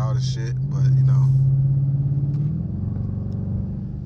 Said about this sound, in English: my car is loud as shit